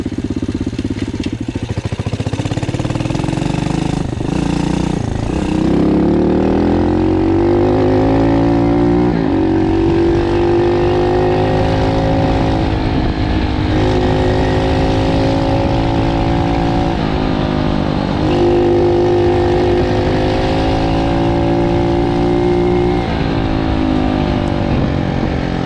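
A Loncin 110/125 motorcycle engine runs steadily for the whole stretch on a test ride, a loud, close, continuous drone whose pitch climbs and settles as the throttle rises and eases, with no talk over it.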